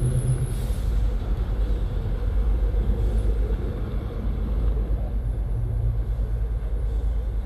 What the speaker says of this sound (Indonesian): Ada trailer van menurun.